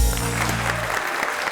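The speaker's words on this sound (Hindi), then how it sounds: "भरपूर तालियों में इस्तकबाल कीजिएगा" A television talk show studio audience applauds as a host is welcomed onstage, a dense wash of clapping that starts loud and continues steadily through the short moment.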